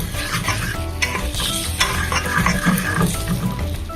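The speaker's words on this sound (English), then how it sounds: "So I'm just browning the curry now." Curry browns and sizzles in a pan with pork, a loud, close frying hiss broken by stirring scrapes and clinks of a utensil against the pan, with no talk.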